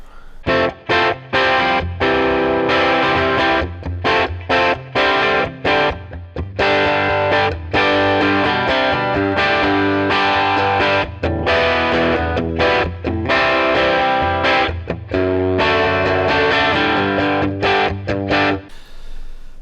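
Electric guitar played through an Origin Effects Deluxe55 pedal, loud choppy distorted chords and riffs with brief stops, heard alone with no talking.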